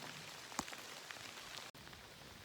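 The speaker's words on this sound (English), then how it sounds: "Yeah, it's still raining." Steady rain falls on the Appalachian Trail near a shelter, a close, even hiss of drops with a few sharper taps on a nearby surface and a brief dropout near the end.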